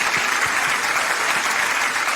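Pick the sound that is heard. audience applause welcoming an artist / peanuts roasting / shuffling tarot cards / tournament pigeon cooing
audience applause welcoming an artist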